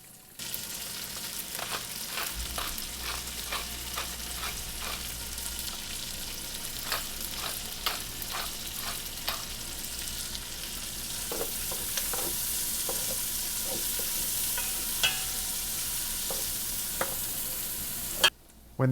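Onion fries in rendered bacon fat, a steady bright sizzle broken by repeated sharp scraping stir clicks, loud and close, continuing with no talk.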